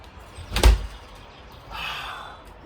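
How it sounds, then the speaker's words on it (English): A door is shut with a solid thud and a short rattle, followed by a softer scraping or latching sound, heard close in a quiet room outside Dayton, Ohio. "Lock up this door."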